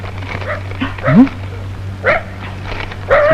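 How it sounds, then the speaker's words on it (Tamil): A police dog in a Tamil comedy film scene barks and yips in several short, close bursts, some with a whimpering, rising tone, over a steady low hum. "துப்ரீம் நாய் சீசர் கொலையாளியை கண்டுபிடிக்க மதுரையிலிருந்து விரைந்து வருகிறது"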